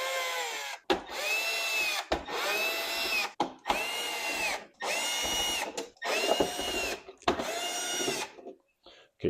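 A power screwdriver with a T10 bit backing screws out of an HP Envy 5540 printer, seven whining bursts of a few seconds each separated by short pauses, close and loud.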